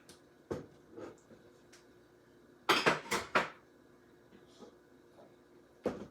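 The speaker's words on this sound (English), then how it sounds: "we are going to open our jar of Soulvaki seasoning here" A jar of souvlaki seasoning is handled in a kitchen: scattered clinks and taps of glass and a lid, with a dense cluster of clattering knocks midway and one last sharp tap at the end.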